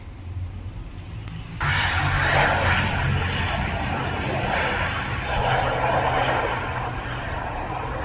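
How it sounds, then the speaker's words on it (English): An ATR turboprop airplane flies past, its steady engine and propeller drone rising abruptly and holding loud and broad for several seconds before easing slightly. "there's one plane coming. Didn't see that coming"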